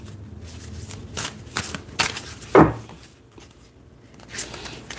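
Oracle cards being shuffled and drawn by hand, a few soft papery riffles and flicks with one sharper snap, heard up close and alone in a quiet room.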